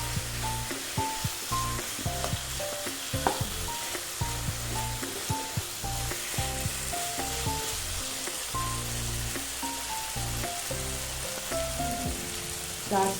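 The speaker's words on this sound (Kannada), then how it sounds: "ಒಂದೆರಡು ನಿಮಿಷ ಈ ಥರ ಫ್ರೈ ಮಾಡ್ಕೊಳ್ಳೋಣ ಲಾಸ್ಟಲ್ಲಿ, ಪೆಪ್ಪರ್ ಮತ್ತು ಸೋಯಾ ಸಾಸ್ ಹಾಕಿರೋದ್ರಿಂದ" Pepper chicken with soy sauce frying in a pan, a continuous close sizzle with crackling pops and a low hum beneath, no voices.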